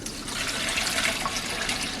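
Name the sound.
liquid from sweet pickles poured into a colander in the sink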